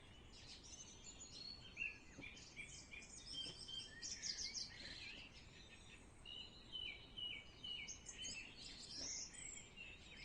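Gentle birdsong ambience from a visual novel game, Bloody Chronicles: 7th Cycle of Death, with steady high chirps and tweets running throughout at a faint, distant level and no voices.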